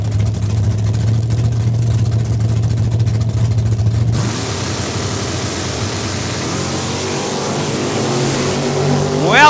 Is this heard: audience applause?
no